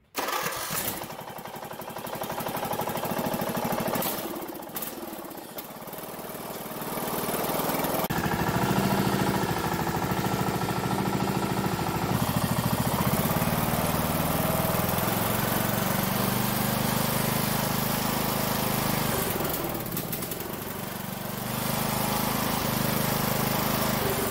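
A Briggs and Stratton Intek small engine with a new head gasket runs on a bench. It starts from a sputter, then settles into a loud steady drone that dips and recovers a few times.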